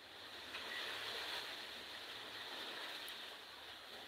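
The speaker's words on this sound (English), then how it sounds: "It's so windy, guys." Strong wind blowing outdoors, a continuous broad rushing hiss with gusty swells, faint and distant in level, with no speech.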